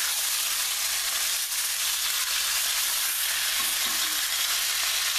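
Vegetables brown in a pan over a very high flame, giving a loud, dense, unbroken sizzle that stays even throughout with no talking.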